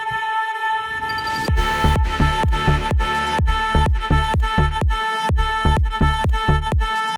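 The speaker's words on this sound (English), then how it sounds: "I'm using this ringing tone to kind of create a sweep into the drop." A ringing tone sweeps upward into an electronic drop built from Dune samples. Sustained pitched tones run beneath a driving series of punchy, regularly spaced bass hits that land loud and close throughout.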